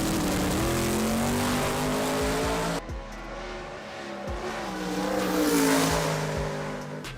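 Chevy Nova drag racing street car roars hard under acceleration, loud and close, with a gear shift cutting the engine note midway before it climbs again, alone without talk.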